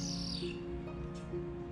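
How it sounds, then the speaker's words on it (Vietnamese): A bird at a zoo calls in brief high chirps over a low background hum, fairly faint and without anyone talking. "Ibirus là tên của con chim."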